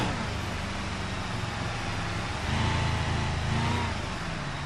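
Car engine in the BeamNG.drive driving game on a desert course, a steady mid-pitched drone that swells briefly as it revs, heard alone without talk.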